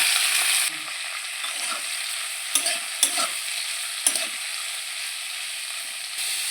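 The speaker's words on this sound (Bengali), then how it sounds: "কড়াইতে অল্প একটু তেল দিয়ে সব সবজিগুলোকে ভেজে নেব" Vegetables frying in a wok with a little oil, a steady hissing sizzle that dips after a loud start, with three or four distinct spatula scrapes against the metal.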